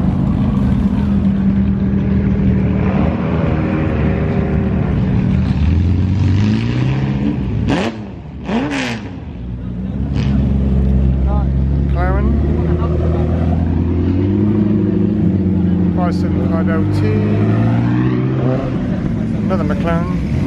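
Supercars including a McLaren 570S, a TVR and an Aston Martin DB11 drive out of the Beaulieu Supercar Weekend, engines revving and passing close one after another, with someone speaking over them throughout.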